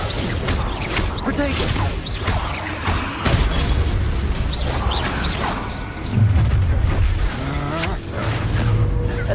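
Spell blasts explode during a wizard duel in Hogwarts Legacy, heavy booms and crashing bursts under overlapping shouted voices and game music.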